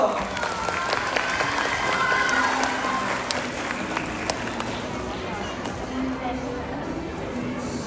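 Applause from the audience at a graduation ceremony, a steady wash of clapping with some crowd murmur running through the whole stretch at moderate loudness.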